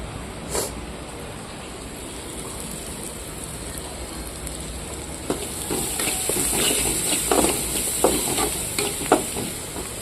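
Broad beans are stirred and fried in a pan with onion and chili powder. A soft, steady sizzle runs throughout, and in the second half it is joined by irregular scraping and stirring clatter.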